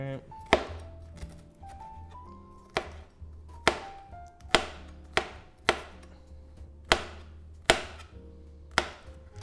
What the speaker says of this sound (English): Just want to chop it up a little bit more.